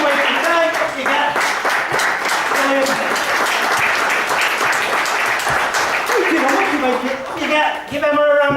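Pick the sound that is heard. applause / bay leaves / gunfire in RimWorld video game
applause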